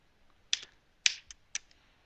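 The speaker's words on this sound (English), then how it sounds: "You have to make sure that you're gonna type the disk letter." Three crisp, separate key presses on a computer keyboard while a Command Prompt command for a bootable USB pen drive is typed, evenly spaced about half a second apart, close and otherwise quiet.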